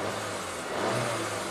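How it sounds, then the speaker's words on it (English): A Volkswagen GDI manual car with a high-pressure fuel pump circuit fault runs with its engine revving while stationary, a steady mid-pitched hum rising briefly, close by with no talk. "It revs nice."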